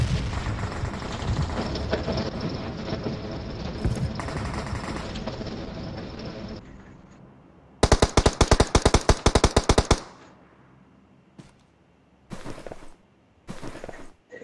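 Gunfire in the PUBG Mobile battle game: sustained automatic fire up close, then a sharp rapid burst of shots followed by short separate volleys and quiet gaps.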